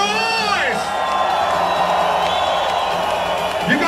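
A large festival crowd at Tomorrowland 2013 in Belgium roars and whoops continuously under electronic dance music and a DJ set, loud and dense throughout.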